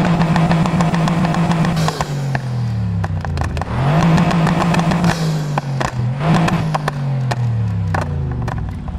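Roaring V8 car engine in the racing video game Need for Speed Heat, loud and continuous, revving up and down in repeated sweeps with gear shifts and occasional scraping clicks throughout.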